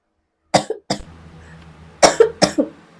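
A person coughs twice in quick succession, pauses, then coughs in a second burst of two to three harsh coughs, close and fairly loud.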